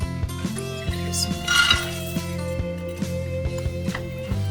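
Coriander, cumin, cashews and fennel dry roasting in a pan, with close metallic scraping and clinking of a utensil against the pan in regular strokes over a sustained background hum.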